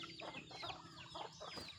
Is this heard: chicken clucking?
yes